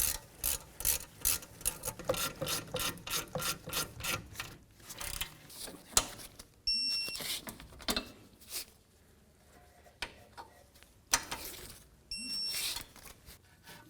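Hand ratchet snugging the rear brake caliper slider pins on a BMW 328i, bursts of rapid clicking in quick repeated strokes, then pauses and a few shorter clicking runs, close by.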